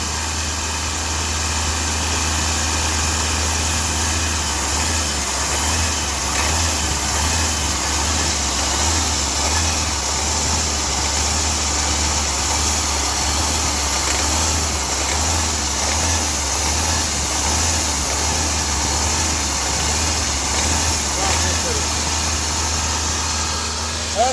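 Diesel car engine running steadily at a raised idle throughout, a continuous low hum with a mechanical drone, during an EGR, intake and turbo cleaning job using a Liqui Moly Pro-Line diesel cleaner; no clear revving swells.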